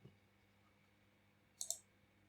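A computer mouse clicks a website button, a crisp double click standing out sharply against a very quiet room hum.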